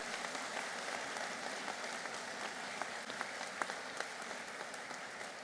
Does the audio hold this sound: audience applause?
yes